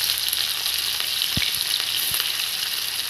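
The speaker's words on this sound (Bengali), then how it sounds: "তেলটা গরম হয়ে গেলেই এবার কুচনো পেঁয়াজগুলো আমি ওর মধ্যে দিয়ে দেবো।" Chopped onions fry in hot oil in a kadai, a loud steady close sizzle with a couple of soft low knocks from the pan and no talking.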